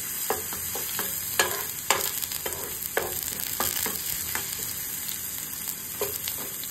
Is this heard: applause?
no